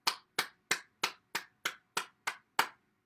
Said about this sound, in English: we want to clap our hands to stimulate the heart